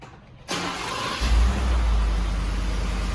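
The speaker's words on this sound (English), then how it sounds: "It's going to start the truck right up." A 2015-2019 Ford F150 pickup starts by remote start: a short crank catches about half a second in, and the engine settles into a steady, close idle with no talking.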